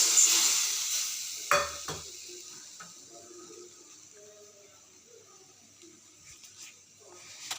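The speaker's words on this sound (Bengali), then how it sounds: "এবার এর মধ্যে আমি জল দিয়ে দেবো" Water poured into a hot pan while cooking bori jhal, a Bengali lentil-dumpling curry, bursts into a loud sizzling hiss with a couple of utensil clinks, then fades to a softer, steady simmer.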